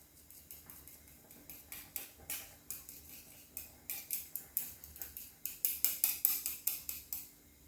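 A ladle works miso paste into soup, tapping and clinking rhythmically against the pot, dozens of quick metallic strikes growing louder and faster toward the end, close and alone with no talk.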